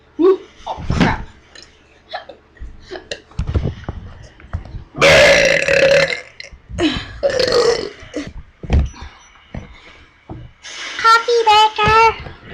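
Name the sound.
loud burping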